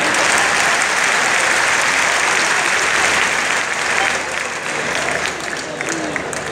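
An audience claps loudly for a poet at a poetry reading, sustained dense applause that eases slightly toward the end, with a voice faintly mixed in.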